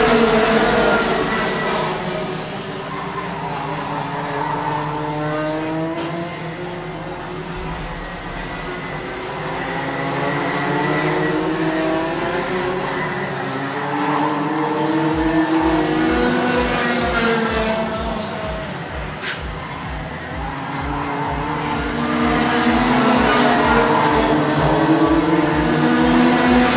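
Racing karts lap at a club championship round at Clay Pigeon, engines buzzing steadily with rising and falling drones and a rapid low pulsing toward the end, moderately loud and continuous.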